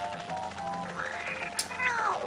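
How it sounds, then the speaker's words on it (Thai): A cat in the video game Mimpi gives a drawn-out meow over steady background game music, clear and close, ending in a rising-then-falling wail. "มันเป็นแมวนะครับ"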